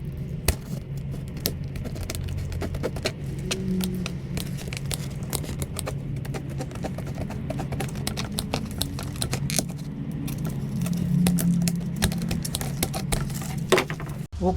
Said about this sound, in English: Now I'm using this metal cutter to cut these soffits.